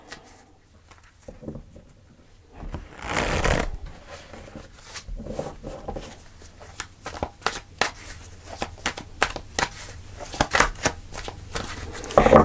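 Tarot cards shuffled by hand in repeated riffling bursts, close and crisp, with quieter handling and soft taps between the shuffles.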